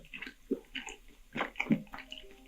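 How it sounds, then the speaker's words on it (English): Someone eats brightly colored candies close to a sensitive microphone, making soft wet crunches, squishes and mouth clicks in an irregular rhythm at low volume. "Canadian ASM artist Honeybee, heard here enjoying a selection of brightly colored candies"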